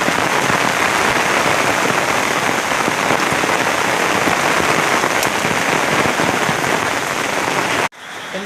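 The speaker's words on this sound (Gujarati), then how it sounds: "આજે તો જોરદાર વરસાદ પડી ગયો છે।" Heavy monsoon rain pours onto open groundnut fields in rural Gujarat as a loud, dense and steady hiss with no break. It cuts off sharply just before the end, and no one speaks.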